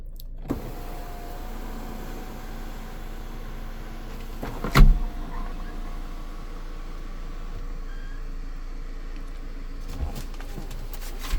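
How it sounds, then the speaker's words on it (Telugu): Motor hum of a panoramic sunroof on a 2020 Hyundai Creta SX 1.5 diesel, steady and fairly quiet inside the cabin, broken by a sharp clunk partway through and a couple of faint clicks near the end, with no talking. "అండ్ ఒకసారి మనం పానోరామిక్ సన్ రూఫ్ కూడా చూద్దాం."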